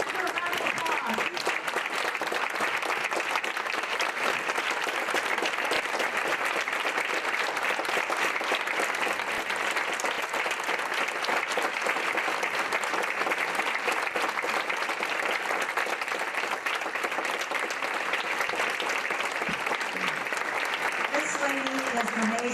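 A crowd at a women's business awards ceremony claps steadily and loudly for a long stretch, the applause sustained and even from start to finish.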